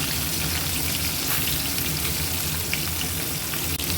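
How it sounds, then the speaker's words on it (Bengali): Hilsa fish pieces fry lightly in hot oil, giving a steady, dense sizzle with soft crackles that holds at an even level and close range throughout, with no talking. "দুপিটটা একদম হালকা করে ভেজে নেব বেশি ভাজবো না"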